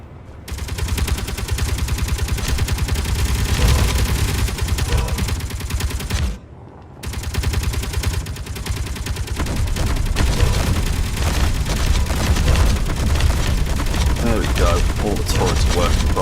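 Automated turret guns firing in Space Engineers: dense, continuous rapid fire that stays loud throughout and breaks off once briefly before resuming.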